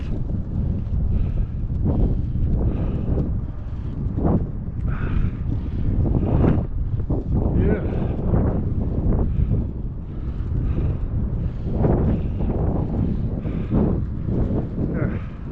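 Wind blows outdoors in Southern Illinois around a bike ride along a tractor-track path at sunset, a steady, loud, broadband rumble and buffeting across the mic with no break.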